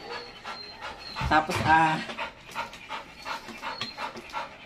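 A Labrador or Golden Retriever pants rhythmically close by, quick breathy huffs running throughout, with a person speaking briefly over it.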